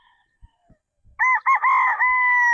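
A Sweater Boston Picom gamefowl rooster crows once, long, loud and close, after a few faint soft bumps in near silence.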